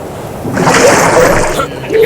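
A game character splashes up and out of the water in ARK, a broadband watery splash and slosh swelling for about a second, with a voice talking over it.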